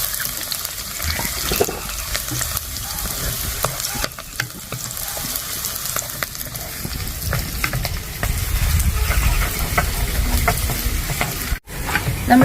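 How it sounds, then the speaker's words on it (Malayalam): Sliced garlic and green chilies fry steadily in hot oil in a pan for a Kerala raw plantain curry, a continuous close sizzle with occasional stirring scrapes and no talking. "നമുക്കൊന്ന് മൂപ്പിച്ചെടുക്കാം"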